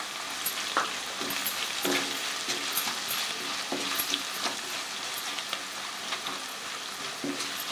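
Red chillies fry in hot oil, a dense close sizzle with scattered sharper pops and crackles running throughout, no voices.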